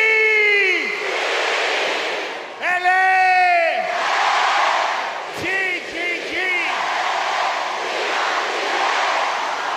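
A stadium crowd at a national bicentennial gala roars a long, loud "CHI" chant, then breaks into repeated collective shouts and whoops that swell and fade over sustained cheering.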